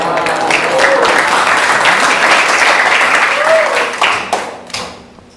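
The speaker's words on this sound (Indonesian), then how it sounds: "tepuk tangan ya" Students in a classroom break into loud, dense applause after a group presentation, a crowd of hands clapping close by for several seconds, then thinning into a few scattered claps as a voice briefly emerges and it fades.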